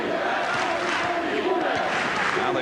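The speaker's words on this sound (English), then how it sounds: "Now they bring the chant of defense up" A basketball crowd at a Duke Blue Devils versus NC State Wolfpack game chants a rhythmic, sustained defense cheer that fills the arena loudly and continuously.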